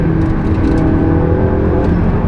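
A McLaren 570 sports car engine drones loudly and steadily up close, a dense mechanical roar holding under acceleration.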